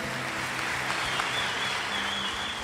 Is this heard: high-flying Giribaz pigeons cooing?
no